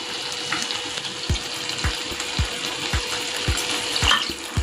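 Water is added to a prawn gravy thickened with cornflour, heard as a steady watery wash with rhythmic low thumps and clinks of utensils in a pan, close and moderately loud.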